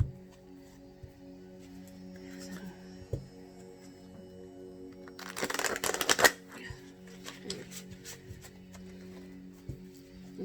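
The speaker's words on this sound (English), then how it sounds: "Shuffling all 78 together." Quiet handling of cards, then a dense riffling burst as a thick 78-card tarot deck is shuffled, followed by soft taps and squaring of the cards.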